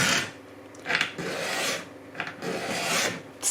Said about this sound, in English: the best tool for the job has been my sanding stick.